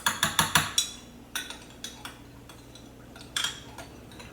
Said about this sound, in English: now we will just give this a little stir